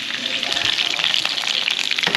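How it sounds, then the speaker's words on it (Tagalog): Food sizzles and fries in a wok-style pan, a loud continuous crackling hiss close up, with a brief stir near the end. "Dito rin po tayo magigisa sa kawali ko na prito natin."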